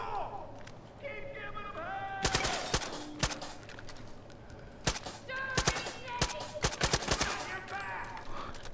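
Gunfire from the Far Cry 5 game: repeated sharp shots and bursts of rapid fire, some close and loud, others in quick clusters, over steady game ambience with a few tonal effect sounds.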